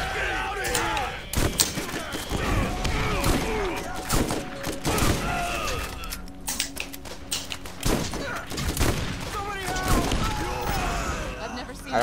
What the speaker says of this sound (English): I don't like the shotgun.